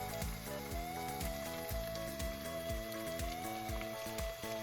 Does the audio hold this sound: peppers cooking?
yes